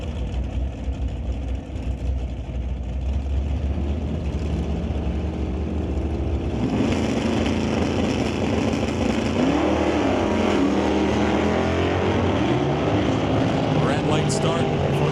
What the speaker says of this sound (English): The Isherwood Body and Fender 1966 Plymouth going up against Rob Hodgson, the 2021 Hot Rod Champion, racing his 69 Dart.